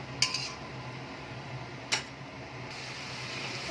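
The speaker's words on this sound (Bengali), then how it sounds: "গোটা ফোড়ন দিয়ে দিলাম আমি, জাস্ট একটু নাড়াচাড়া করে নেব।" Whole spices being stirred in hot oil in a pan while cooking chicken kofta curry, with two sharp metallic clinks of a utensil against the pan, well apart, over a faint steady background hiss.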